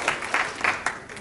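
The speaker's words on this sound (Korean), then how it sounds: "다시 한번 뜨거운 박수 부탁드립니다." An audience at a startup pitching event clapping for introduced panelists, a brief burst of scattered claps that soon thins out.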